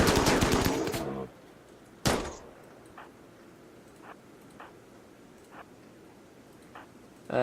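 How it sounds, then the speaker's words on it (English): Video-game gunfire in Rimworld: a dense rattling volley of shots opens, stops, then one sharp burst follows, trailed by sparse faint single shots at spaced intervals with no talk. "There we go, get some volley fire on them."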